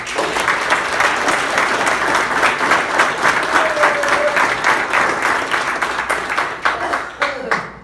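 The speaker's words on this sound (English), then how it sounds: "Can we give her a round of applause, please?" A Stockton City Hall audience applauds with loud, dense clapping that builds and holds, with sharp individual claps standing out near the end and some voices mixed in.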